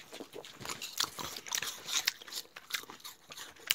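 A person and a dog bite into and chew a crisp, well-ripened Singo pear, with continuous close-up wet crunching and snapping bites and no talking.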